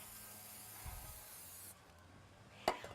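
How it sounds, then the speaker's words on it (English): Short hissing bursts of an aerosol cooking spray onto a vegetable grill pan, close and fairly quiet, ending with a sharp clack. "Always spray it before you put it on the grill"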